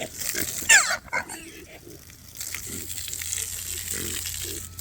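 Kunekune pigs grunt and snuffle close by in short repeated bursts, with a brief squeal and some speech mixed in.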